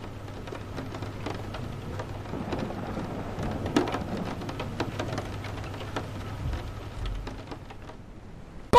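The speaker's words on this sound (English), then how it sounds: "The closer you get to the window, the louder the rain gets." Rain patters steadily outside a window in a VR haunted house game, with scattered drops ticking and a low rumble of thunder underneath, fairly faint and without voices.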